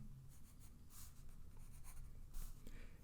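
A pencil sketching light, loose, tentative lines on paper while drawing a realistic eye, soft scratchy strokes in short repeated bursts, close and quiet.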